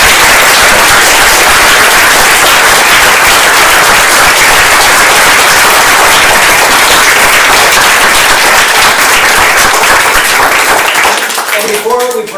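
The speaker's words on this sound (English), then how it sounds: "Let's give a big round of applause." Lecture audience giving a big round of applause after a talk on voting rights, loud, dense, continuous clapping close by that tapers off at the very end.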